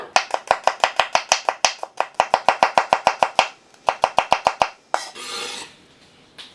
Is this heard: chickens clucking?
no